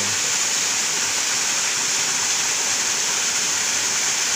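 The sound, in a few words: Ambon falls waterfall, Laiya, Lobo, Batangas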